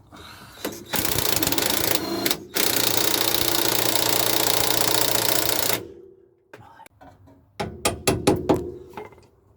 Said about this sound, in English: I'm going to spin it with my spinner to free it up